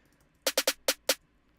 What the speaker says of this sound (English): And then I just have like a little snare fill that I programmed.